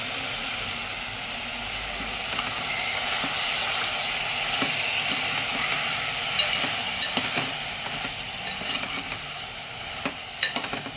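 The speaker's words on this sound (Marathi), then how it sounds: "आता मी भाज्या पण छान अशा परतून घेते" Peas and potato sauté in a pan, giving a soft continuous sizzle and hiss with occasional clinks and scrapes from stirring, close by with no talking.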